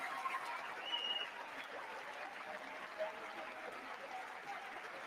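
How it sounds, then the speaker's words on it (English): Sustained applause from a large crowd fills the space, steady and somewhat distant, with scattered cheers and whoops rising above the clapping. "a bunch of Democrats and Republicans. Look at them all cheering right along"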